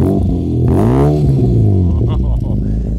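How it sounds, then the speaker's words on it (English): A classic Mini fitted with a genuine Cooper Works exhaust from a Works conversion kit revs up and settles, a loud close exhaust note that rises and falls, with a voice talking over it. "That exhaust sounds so good and it looks so good."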